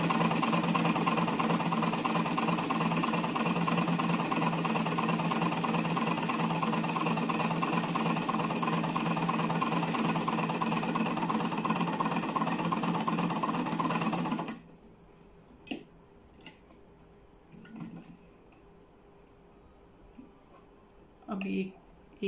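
A sewing machine runs continuously for about fourteen seconds, stitching pleats into a frock, loud and close, then stops abruptly and leaves a few soft clicks and handling sounds.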